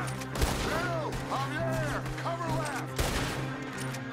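Gunfire in Red Dead Redemption 2 during a manor assault: a few sharp shots ring out over game music and a wailing, whistling tone, with no talk.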